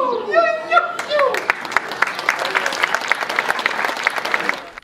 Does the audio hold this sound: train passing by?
no